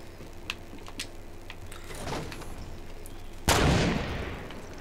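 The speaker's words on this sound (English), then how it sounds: "like, gunfire?" Gunfire in the battle royale video game Fortnite: scattered faint shots, then one loud close blast with a decaying tail near the end, set against steady game ambience.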